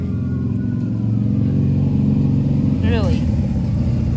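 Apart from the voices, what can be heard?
cars driving by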